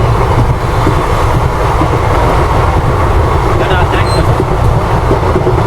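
Weekly Express train rolling through a station without stopping, with loud continuous rumble, rattling wagons and wheel clatter close by, steady throughout.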